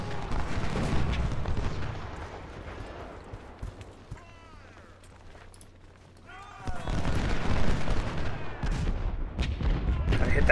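Cannon and artillery batteries firing in the Ultimate General: Civil War video game, bursts of booming fire and rumbling volleys that fade briefly mid-clip and then surge back loud.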